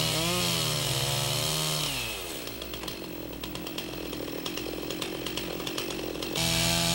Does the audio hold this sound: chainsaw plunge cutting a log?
yes